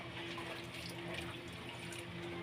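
Water pours steadily into a pan in a home kitchen, a little added for cooking vegetables, giving a continuous, fairly quiet splashing stream with no talking over it.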